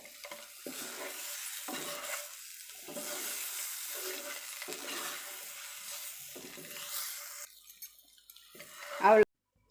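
Curry leaves go into a sizzling Tamil egg masala fry, a moderate hiss rising and fading in repeated bursts with stirring, followed by a sharp clatter just before the end.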